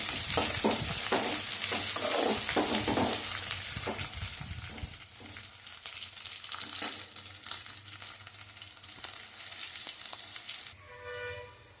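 Onions and green chillies fry and get stirred in a pan for lemon rice, giving a loud, steady sizzle with scraping stir strokes that eases off toward the end.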